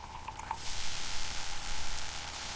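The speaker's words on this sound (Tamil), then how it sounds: "கடாயில எண்ணெயை ஊத்தி கொதிக்கும் வரை வெயிட் பண்ணுவோம்." Steady broadband sizzle of oil heating in a kadai, constant and fairly close, with a few faint crackles near the start and no talking.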